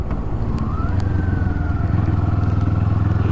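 A 2024 Kawasaki Eliminator cruiser motorcycle engine lugging at low revs in third gear while riding, a loud close throbbing drone with a steady pulsing rhythm and a faint rising whine behind it.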